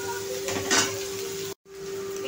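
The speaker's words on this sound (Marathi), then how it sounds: "हे पहा, आपला कांदा छान असा फ्राय होतोय" Onion fries in oil for sandge bhaji, a soft steady sizzle with a faint stirring scrape, briefly dropping out near the end.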